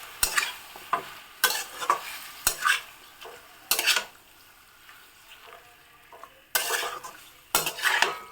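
Chicken being stirred with spices in a pan over a medium gas flame, a utensil scraping in repeated bursts against the pan amid a steady, close sizzle.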